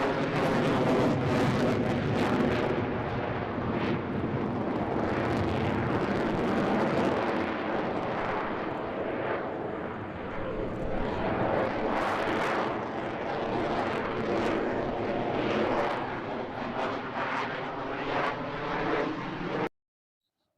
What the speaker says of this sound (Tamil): அடுத்து வர்றது ஜெட்.